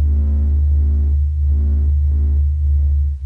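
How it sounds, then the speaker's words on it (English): Solar oscillations of the sun's pressure waves, sped up into an audible range, form a steady low droning hum with layered tones that swell and fade in slow pulses. "This is the sound of the sun singing."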